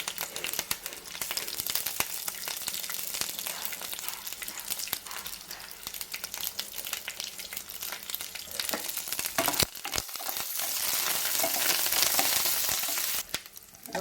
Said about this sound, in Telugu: లో ఫ్లేమ్లో వేయించుకోవాలండి.